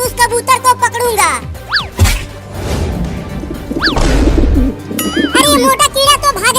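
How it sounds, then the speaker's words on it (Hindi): A cartoon pigeon coos amid playful animated sound effects: quick whooshes, a crash, sliding squeaky tones and bouncy bursts, all loud and close in a busy comic scene. "वहाँ एक कबूतर नीचे घूम रहा है"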